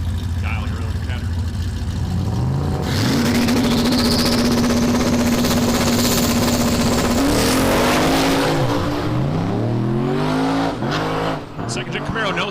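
Drag racing cars, including a second-generation Camaro, launch and scream down the strip in a loud, sustained engine roar. The engine climbs through rising gear-change sweeps and fades near the end, with commentary over part of it.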